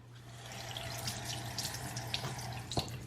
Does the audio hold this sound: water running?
yes